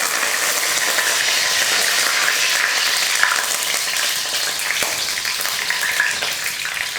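Curry leaves spit and crackle in hot oil with cardamom, cloves and cinnamon, a loud continuous frying hiss with bursts of popping and no voices.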